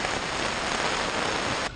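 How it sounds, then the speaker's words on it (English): Rain falls steadily at a kart racing track, a dense, even hiss of drops that runs unbroken and then drops slightly in level at the very end. "It's raining."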